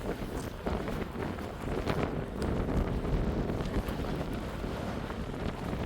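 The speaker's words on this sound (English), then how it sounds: "it's such a windy time at the beach today that I feel bad about recording" Strong wind buffeting a microphone on Wainuiomata Beach during a dog walk, a continuous heavy low rumble and roar that stays loud throughout with no voices.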